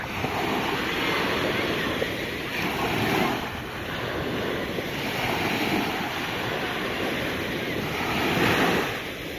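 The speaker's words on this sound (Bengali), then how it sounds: "সমুদ্রের যে গর্জন" Sea waves roar and crash continuously, loud and close, with gusts of wind buffeting the microphone, at East Coast Park beach in Singapore.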